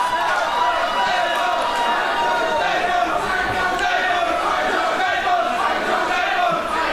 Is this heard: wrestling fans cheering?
yes